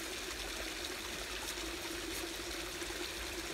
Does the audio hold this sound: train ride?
no